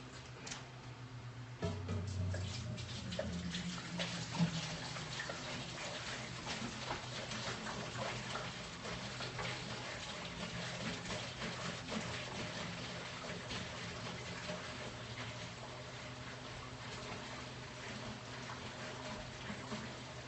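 Water gushes into a brewing kettle during a Munich Dunkel brew day as 5 gallons are filled, a steady moderate rush running without pause after a sudden start, with faint clicks and taps around it.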